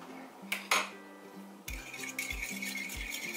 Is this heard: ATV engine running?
no